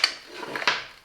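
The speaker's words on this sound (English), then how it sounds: "Here we have the locking mechanism. It locks," A Parkside folding hand truck's locking mechanism engaging, a few quick close metallic clicks and light knocks within about a second, with no voice.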